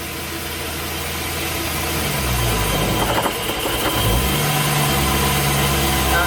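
An LS-swapped Chevrolet C10 idles loudly nearby, then shifts into gear with a drop in engine note and a brief clunk, settling back into a steady rumbling idle.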